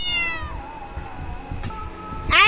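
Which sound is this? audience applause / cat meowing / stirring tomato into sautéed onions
cat meowing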